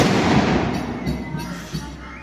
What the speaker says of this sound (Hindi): भाई कुछ धमाके भी है, देख सकते हैं आप लोग यहाँ पे इन्होंने निकाले